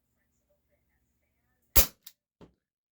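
A GAMO PT-80 air pistol with a small leak fires an 8.44 grain pellet: one sharp, close crack, followed by two fainter short knocks.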